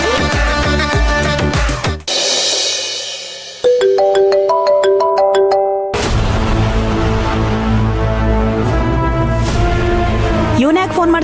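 A phone ringtone for an incoming call in a Kannada TV serial scene plays as a bright, stepped melodic tune that rings steadily and loudly, mixed with dramatic background music throughout.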